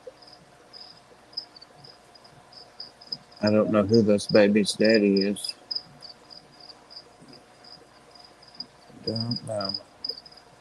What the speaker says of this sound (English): Crickets got a little happy, didn't they? Yep, I hear them.